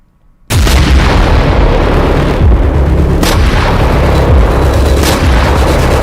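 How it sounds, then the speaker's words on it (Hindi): Loud, continuous rumbling blasts with sharp booming bursts rolling through, like heavy explosions going off in close succession, in Gaza. "गाजा की सड़कें नेतन्याहू के धमाके से दहल रही हैं"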